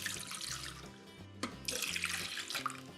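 Milk poured steadily into the bowl of a Compact Cook Elite kitchen appliance, a soft continuous liquid trickle and splash heard up close and quiet, with faint background music.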